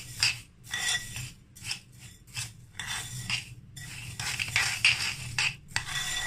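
Rice mixed with green food colouring in a bowl, giving close, gritty rasping and scraping strokes of a spoon through the grains, repeated in uneven bursts with short pauses.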